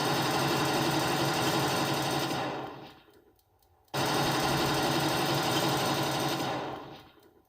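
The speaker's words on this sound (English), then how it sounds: "Now I've got the machine gun on the auxiliary noise." Machine gun effect from an RC car sound system on its auxiliary channel: a loud, rapid rattling burst for about three seconds, a short pause, then a second long burst, with no voices.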